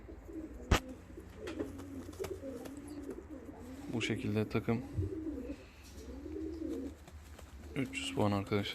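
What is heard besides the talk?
fancy and costume pigeons cooing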